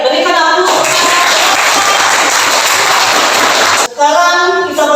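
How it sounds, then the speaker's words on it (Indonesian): Applause from a classroom audience during a teacher performance-test group presentation: a dense, steady burst of clapping lasting about three seconds, with talking just before and after it. "berikan aplaus"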